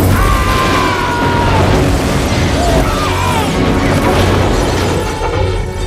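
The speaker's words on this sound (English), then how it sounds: "It's a bomb!" An explosion from the 1993 action film Last Action Hero: a loud, dense, sustained blast and roar that fills the whole clip, with tonal sound layered over the rumble.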